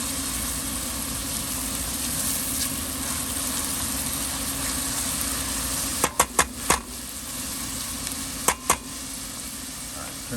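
Shallots sizzle gently in a pan for mushroom risotto, a steady soft hiss with a few sharp scraping clicks from stirring near the end, no voices.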